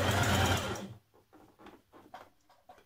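Domestic sewing machine stitching a sweatshirt cuff onto knit sleeve fabric: a loud steady whirring run that stops abruptly, followed by a few quiet clicks and handling sounds.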